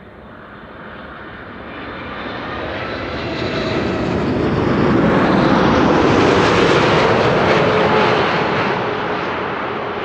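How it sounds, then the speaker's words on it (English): A 13-year-old jet airliner lands at Amsterdam Schiphol, its engine roar swelling into a loud, broad rush as the thrust reversers spool up, peaking mid-way and easing slightly at the end. "Hopefully she'll get loud. Hopefully she'll spool up those reversers."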